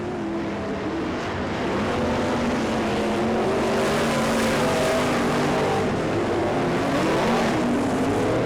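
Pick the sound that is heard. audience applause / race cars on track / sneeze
race cars on track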